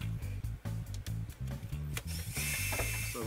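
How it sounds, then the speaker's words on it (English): A cordless drill whirring in short bursts, pulsing on and off, removing transmission pan bolts on a Mercedes 722.9 transmission, then a sharper high-pitched grind as a bolt spins loose near the end. "Now we're just going to run out the back ones with the cordless drill."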